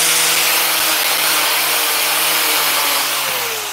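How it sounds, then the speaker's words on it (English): Angle grinder sanding the ends of rotten wood, a steady, loud, continuous abrasive whine and hiss with a faint shifting motor hum, running alone throughout. "Do the same on the ends with the angle grinder."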